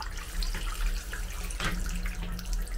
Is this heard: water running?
yes